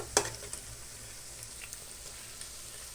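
Mango khaja pastries frying gently in moderately warm oil, giving a soft, even sizzle with a few faint pops and one sharper click near the start, quiet and close, without talk.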